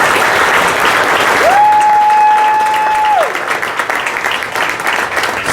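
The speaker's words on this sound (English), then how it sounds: "So let's give them one more round of applause." A crowd at an awards banquet applauds steadily and enthusiastically throughout, with a brief sustained tone sounding over the clapping partway through.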